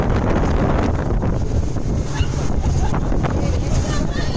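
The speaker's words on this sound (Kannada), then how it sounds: "ಈ ಬೋಟ್ಗಳು ಮಾತ್ರ ಸಿಕ್ಕಾಪಟ್ಟೆ ಫಾಸ್ಟ್ ಆಗಿ ಓಡಿಸ್ತಾರೆ ಫ್ರೆಂಡ್ಸ್" A fast motorboat speeds across the sea on an island-hopping trip off Langkawi. Loud, steady wind buffets the microphone and mixes with the engine drone and the rush of water for the whole stretch.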